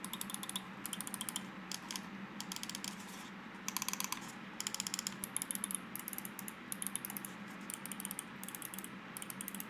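Clicking of a Lamzu Paro gaming mouse: quick bursts of crisp, light clicks in uneven clusters, heard close and fairly quiet with no talking.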